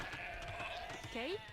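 Sheep bleating in the Age of Empires 2 strategy game: one short, wavering bleat near the end, heard over background game sounds and steady talk.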